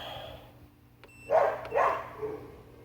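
A dog barks twice at some distance in a garage setting during a 1999 Honda Civic sedan air suspension install, two moderately loud barks standing out above a quiet background hum.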